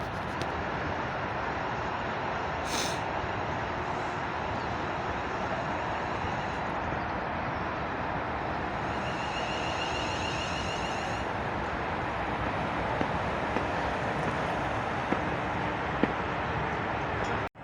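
A London North Western Railway passenger train pulls into a West Coast Main Line station, a steady low rumble of wheels and motors with a brief high squeal early on and faint whining brake tones midway.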